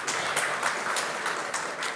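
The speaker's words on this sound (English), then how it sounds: "Can we give him another round of applause" Conference audience at a vocational education event gives a round of applause, a steady, moderately loud patter of many hands clapping with soft pulses of intensity, continuing alone without speech.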